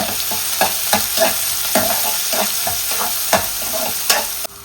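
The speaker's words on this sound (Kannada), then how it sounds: "ಕ್ಯಾಪ್ಸಿಕಮ್ ಕ್ಯಾರೆಟ್ ಸೊ ಒಮ್ಮೆಲೆ ಇದನ್ನು ಫ್ರೈ ಮಾಡ್ಕೊಳ್ತೀನಿ" Capsicum and carrot with beans are stir-fried in a hot pan, giving a steady sizzle with repeated scraping and stirring strokes in an even rhythm, close and loud, with no talking.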